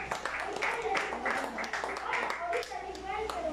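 At an outdoor kite festival in Jacaltenango, Guatemala, a crowd claps in a steady patter of overlapping hand claps while a voice talks over it.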